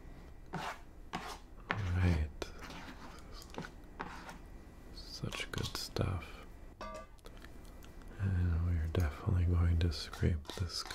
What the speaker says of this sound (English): do a little chop here on some of these pieces. Just so we're bite-sized.